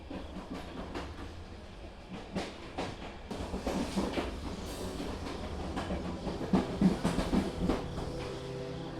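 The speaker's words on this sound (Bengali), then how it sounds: "যাও তোমাদের ট্রেন আসছে" A train pulls into a station with rhythmic clickety-clack of wagon wheels over rail joints, rumbling and growing slightly louder, heard alone without talk.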